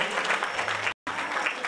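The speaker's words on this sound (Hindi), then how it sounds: "तो आप जोरदार तालियों से अभिनंदन करते रहे।" Enthusiastic audience applause at a Shrimad Bhagavat Katha religious gathering at a cow shelter in Ahmedpur Darewala, a dense, loud, continuous clapping that briefly drops out before resuming.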